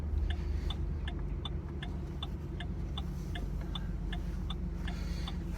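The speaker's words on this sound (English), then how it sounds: "while I drive in this Ford Explorer" Steady low engine and road rumble from a Ford Explorer SUV being driven, with a regular ticking, likely a turn signal, clicking throughout at a constant level.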